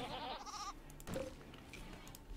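Goats bleat in the video game RimWorld, a couple of short wavering calls up close followed by fainter scattered game sounds.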